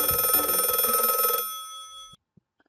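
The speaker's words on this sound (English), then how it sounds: "the phone is ringing" A telephone rings loudly with a dense, bright electronic trill for about a second and a half, then cuts off, leaving a fading tone and a couple of faint knocks.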